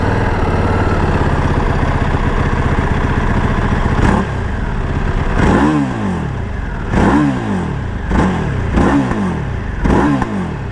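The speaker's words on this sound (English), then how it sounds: "I will say, it revs up really quick." A 2015 EBR 1190SX sport motorcycle engine idling close by, then revved in a series of quick, sharp throttle blips roughly a second apart, each climbing fast and dropping back to a lumpy idle.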